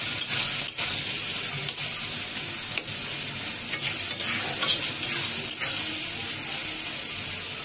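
Chopped tomato fries in a pan while being stirred well, a continuous hissing sizzle broken by scraping strokes of the spoon, close and with no talking.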